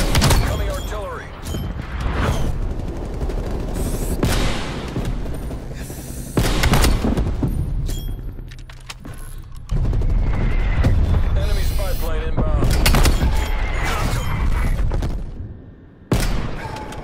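Incoming artillery fire in Call of Duty: Black Ops Cold War, heavy booms and bursts of gunfire crashing repeatedly across a loud, busy battle mix, with game announcer voices talking over the chaos.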